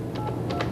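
Telephone number being dialed on a 1990s local TV broadcast, a few quick, faint clicks or tones in a short irregular run over low room noise.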